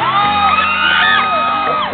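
A concert crowd at the Marikina amphitheater shouts and whoops loudly and close, excited voices rising and overlapping in a steady two-second burst of cheering.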